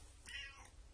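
One brief meow from a female house cat, faint and somewhat distant, rising then fading over a quiet background hum.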